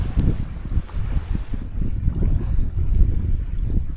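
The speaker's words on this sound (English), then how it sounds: "the winds are gusting to 21, and one gust just kind of grabbed and lifted just a little bit" Strong gusty wind buffets a small sailing boat with an awning on the water near Tiger Key in the Everglades, a steady low roar with rising gusts throughout and no talk.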